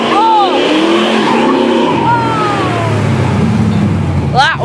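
A classic Dodge Challenger drifts with loud, close tire squeal sweeping up and down in pitch over its engine roar, a final sharp screech at the end.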